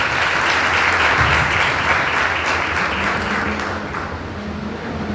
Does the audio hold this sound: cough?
no